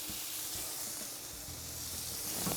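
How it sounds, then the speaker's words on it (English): Bacon-wrapped elk skewers on a pellet grill give off a steady, faint crackling sizzle, a continuous hiss with small pops and no voices. "You don't think they're sizzling? The bacon's crispy."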